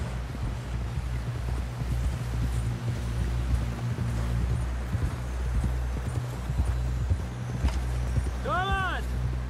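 Horse hooves clip-clop steadily on ground in the video game Red Dead Redemption 2, riding toward a camp, with a low rumbling music bed under the rhythmic steps and a brief whinny near the end.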